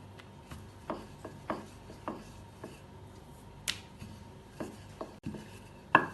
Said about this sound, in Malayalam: കുറച്ച് ഉരുളയെടുത്ത് ഒരു ചപ്പാത്തി പലകയിൽ വെച്ചിട്ട് പരത്താം